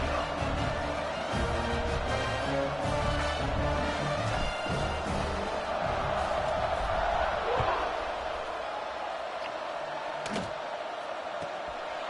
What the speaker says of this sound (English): You think this crowd's going to get loud when their defense comes on the field?